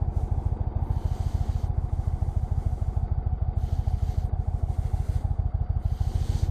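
A 2020 Indian Chief Vintage motorcycle's engine thrums in a steady, low rhythmic pulse while riding, close and continuous, with faint wind rustle and no voices.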